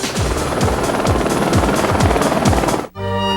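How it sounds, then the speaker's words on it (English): News helicopter Chopper 6 in flight, a loud steady rotor thump with a whining turbine underneath, close and continuous before cutting abruptly to a different sound near the end. "The Gyrocam on Chopper 6."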